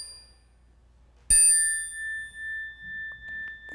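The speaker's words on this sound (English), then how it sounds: "when I hit the synergy chime" A synergy chime is struck once after a quiet pause, giving a sharp metallic strike that rings on as a clear, sustained tone slowly fading, close and alone.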